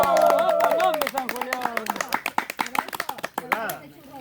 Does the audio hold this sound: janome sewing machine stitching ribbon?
no